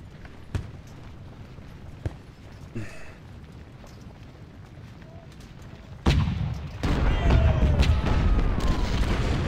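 Cannon artillery in the Civil War strategy game Ultimate General: Civil War at the battle of Chancellorsville, with a few scattered booms early on, then a sustained loud roar of massed firing in the final seconds.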